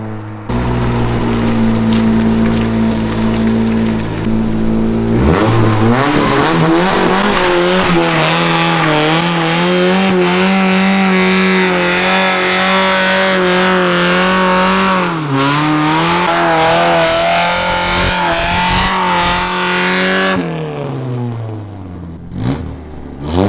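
A Toyota AE86 engine idles low, then revs hard and holds high through a long burnout with tire squeal, the pitch dipping briefly midway before dropping off abruptly near the end; no talking.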